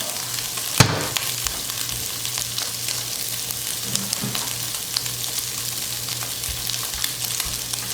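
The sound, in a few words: Dominican longaniza pork sausage browning in a dry pan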